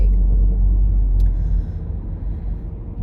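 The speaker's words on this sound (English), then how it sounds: "I can't believe I'm behind this really loud car as I'm trying to vlog." A really loud car ahead in traffic, its engine a heavy, steady low rumble that stays close and dominant throughout before easing slightly toward the end.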